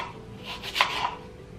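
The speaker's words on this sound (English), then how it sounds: "So I'm just going to cut these into like 1/4 inch pieces" Knife cutting apples, a little soft on the surface, into quarter-inch pieces for an apple crisp: a few quick, faint chopping strokes on a board, close and without talk.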